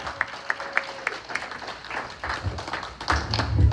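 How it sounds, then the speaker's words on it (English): Audience applause and scattered hand claps at a celebration for a book release and social media milestone, sharp individual claps standing out early before fuller clapping swells near the end, with cheering voices mixed in. "Give her another hand clap, y'all."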